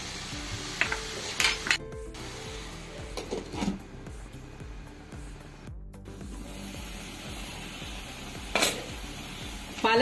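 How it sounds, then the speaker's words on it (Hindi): Spinach and chana dal cooking in a covered pan, with faint steady sizzling and a few scattered clinks and scrapes of stirring utensils against the pan, close by with no talk. "पालक बीच बीच में चलाते हुए पकाएंगे।"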